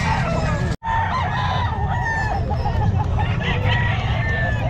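An 11-month-old sweater gold gamefowl rooster at a busy Calumpit pet market, with several clucks and crowing calls from the birds over a steady crowd hubbub and a brief cut near the start.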